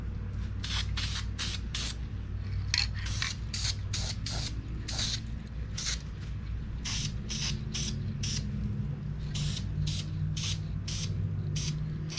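An airbrush or spray can gives a light coat of paint to the exterior of a 1/24 scale AMT Peterbilt 352 Pacemaker cabover model truck, in short hissing bursts repeated in a quick irregular rhythm over a steady low hum.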